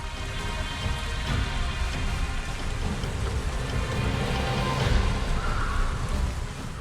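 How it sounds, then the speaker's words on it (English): Dense, steady rainfall surrounds the listener in the video game Avatar: Frontiers of Pandora, loud and continuous, with a faint low rumble of far-off thunder swelling slightly toward the end. "rain comes from all around you, rumbling from thunder in the far distance"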